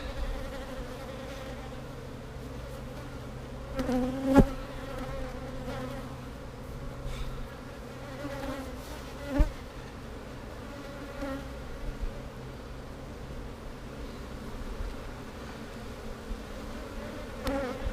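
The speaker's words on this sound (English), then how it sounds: "So we're just going to drop the bees off." Many honeybees being dropped off while splitting a hive buzz in a low, continuous drone close by, with a few brief louder hums standing out now and then.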